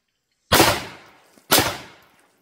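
Two sharp gunshots fired outdoors at a critter in the water while fishing, loud and close, about one second apart, each with a short decaying echo.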